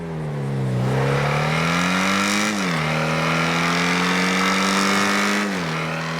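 A four-door supercar engine in GTA Online roars continuously and loudly, its pitch climbing and dipping through several rev swells as it accelerates and shifts, with no talking over it.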